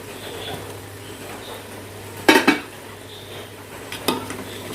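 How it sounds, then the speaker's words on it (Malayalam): Fish biryani masala with coriander and mint leaves is stirred in a pan, with two brief bursts of metal spoon scraping and clinking over a quiet, steady background hum. "എല്ലാം കൂടി നന്നായിട്ടൊന്ന് വഴറ്റിയെടുക്കാം"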